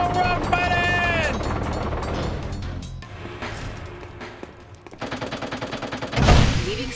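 Gunfire from the video game Jak II: bursts of rapid shots, with a loud thumping sequence of repeated blasts late in the clip, mixed with game sound effects and voices.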